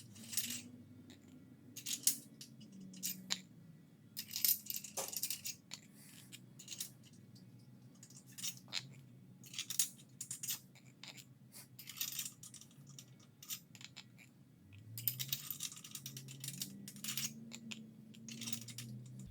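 Engine bolts being threaded by hand into a GM LS 6.0 short block, giving sparse small metallic clicks and ticks with scattered light scraping, close and quiet with no talking.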